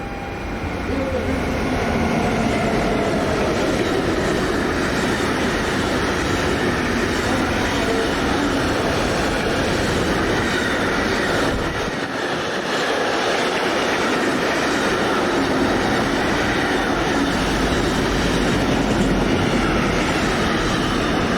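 An intermodal freight train bound for Rotterdam, hauled by a Class 193 locomotive, rumbles past close by in Altdorf on the Gotthard line, a loud continuous roar of wagons and wheel clatter lasting throughout.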